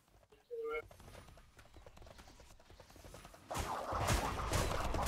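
Horses gallop in the online game Albion Online, their hooves making rapid clip-clop beats under voices talking, with the game noise swelling louder toward the end.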